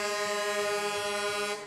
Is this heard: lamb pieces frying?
no